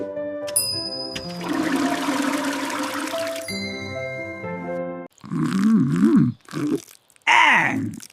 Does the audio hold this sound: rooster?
no